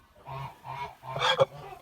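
A grey Kholmogory goose honks several times in short nasal calls, close by, with a louder burst of honking near the end.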